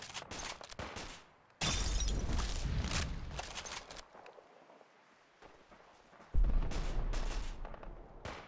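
Heavy gunfire in Fallout 4 (Zombieland Conquest: Reanimated mod) comes in loud, dense bursts with booming low-end recoil, two long volleys separated by a quieter stretch of rattling and fading echoes.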